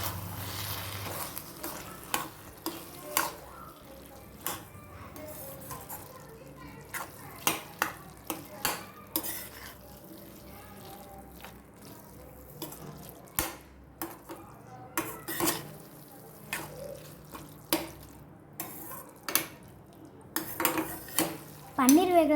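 Food is stirred and mixed in a pan with paneer nearby, producing frequent clinks and scrapes of a spoon against metal over a low sizzle, close by with no talking.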